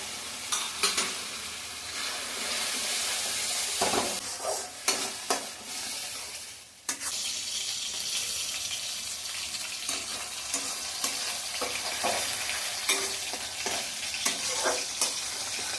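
A spice paste with salt, turmeric and ground tomato fries in a pan for a duck egg curry, a continuous loud sizzle under repeated spoon scrapes and taps as it is stirred, close with no talking.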